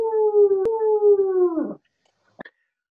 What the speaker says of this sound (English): just a fierce wolf howling at the moon